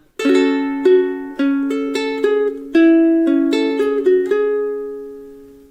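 A ukulele plucks a short, bright melody, single notes and strummed chords ringing out one after another, close and clear with no voices.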